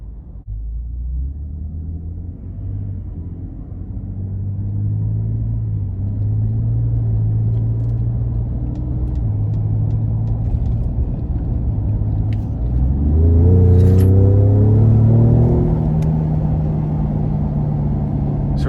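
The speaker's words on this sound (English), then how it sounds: "really good turbo boost. And the 10-speed is really quick in finding those shift points so that you're able to accelerate" A 2019 Ford F-150 Raptor pickup with a turbocharged engine and 10-speed automatic accelerates hard. The engine makes a steady low rumble that swells and then rises in pitch through the gear changes, with no talking over it.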